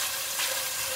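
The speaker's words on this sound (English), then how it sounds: "So we keep frying the chicken till it becomes nice and firm" Chicken pieces fry in a pan for an Anglo-Indian chicken pish-pash, with a steady, even, hissing sizzle close by and no voices.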